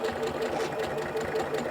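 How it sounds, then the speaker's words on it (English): A sewing machine runs steadily through a short back-stitch to lock the seam, a close, continuous mechanical whirr with a fast, even rhythm and no talk over it. "I'm going to go back to lock my stitches."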